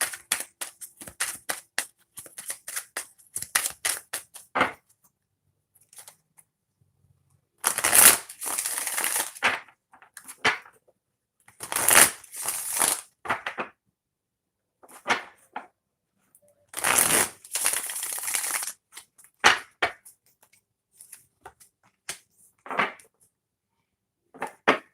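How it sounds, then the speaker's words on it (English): A deck of tarot cards shuffled in several separate bursts of crisp riffling and rapid card flutter, loud and close, with quiet gaps and light handling between. "Let me shuffle this real quick."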